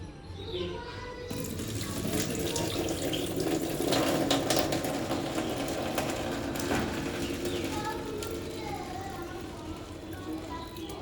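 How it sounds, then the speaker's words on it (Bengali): Tap water runs steadily into a sink while sago pearls are rinsed and swished by hand, a continuous splashing wash that stays at fairly even loudness throughout. "এবার এটাকে ধুয়ে নেব ভালো করে ধুয়ে নিচ্ছি ভালো করে"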